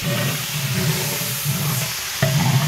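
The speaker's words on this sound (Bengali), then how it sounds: "ভাজা হচ্ছে" Chicken meat fries in a pan with oil, giving a continuous crackling sizzle that holds steady throughout, with a short bump in loudness near the end.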